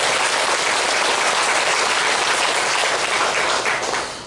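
A church congregation at a Sunday worship service claps in thanks, a loud, continuous burst of applause that holds steady and tapers slightly at the end.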